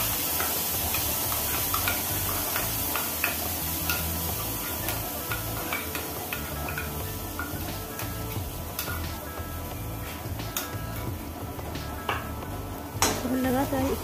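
Spices sizzle and crackle in hot mustard oil in a pan while being stirred for a Purvanchal-style rohu fish curry, a steady close frying hiss with scraping and clinks throughout.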